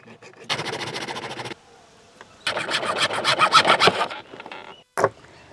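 A hand saw cuts 1-inch PVC pipe in two loud, rhythmic bursts of rasping back-and-forth strokes, followed by a brief knock.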